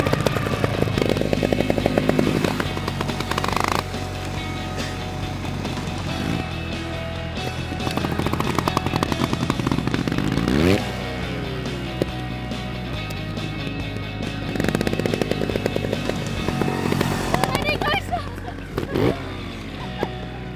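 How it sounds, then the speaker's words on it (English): A trials motorcycle crawls in first gear through a tight, counterbalanced turn, its engine chugging steadily at low revs and swelling slightly near the start and end, close by with faint voices in the background. "Now we're going to slow the bike right down to first gear, and we're going to start doing some extreme counterbalancing."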